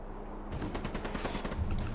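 Sniper fire in Ghost Recon Wildlands, a rapid run of sharp gunshots breaking out after a quiet moment and continuing steadily at moderate distance, with no talk over it.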